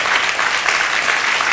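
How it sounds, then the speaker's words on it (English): An arts summit audience gives a dense, steady burst of applause, loud and close, with no speech over it. "we should have a huge round of applause for all of the artists who participated"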